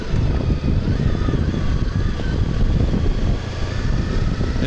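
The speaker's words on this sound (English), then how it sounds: "Yeah, it's windy here" Gusty wind buffets the microphone with continuous low rumbling and flutter, loud and close, with no voices.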